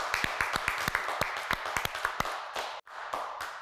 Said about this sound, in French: Et on vient s'applaudir.